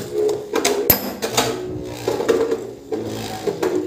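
Metal and burst Beyblade spinning tops clash after launch, giving rapid, close clicks, knocks and scraping rattles in an uneven, busy rhythm.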